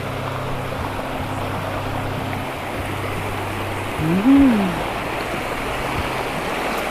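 Steady broadband rush of a small stream flowing at a Khao Yai campsite, constant and fairly close, with a low motor-like hum underneath and a brief rising tone near the end.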